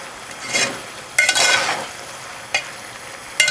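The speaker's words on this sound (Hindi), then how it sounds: "ये ऐड करने के बाद आप इसे थोड़ा सा भून लेंगे" Keema for aloo keema fries in olive oil while a spoon stirs it, making a low sizzle broken by short, sharp scraping bursts at irregular intervals, close by.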